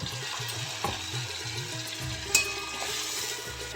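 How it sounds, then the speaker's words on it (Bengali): Masala paste for jackfruit curry (echor kosha) sautés over low to medium heat in a pan with a little water, giving a steady close sizzle with occasional soft stirring scrapes and a brief clink, no talking. "আমি লো টু মিডিয়াম হিটে মশলাটা কষিয়ে নেব তেল ছাড়া পর্যন্ত মাঝে মাঝে নেড়ে দিতে হবে"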